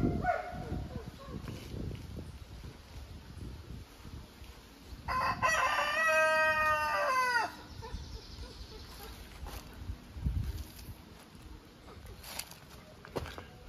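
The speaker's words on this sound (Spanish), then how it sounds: "Aquí está nuestro gallo otra vez en el medio." A rooster crows once in a loud, drawn-out call on a farm in Vega Alta, Puerto Rico, amid outdoor bustle, footsteps and someone speaking before and after.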